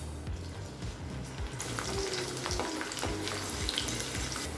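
Finely chopped garlic drops into hot oil in a kadai and bursts into a dense, crackling sizzle that swells after a quiet first second and stays steady and close.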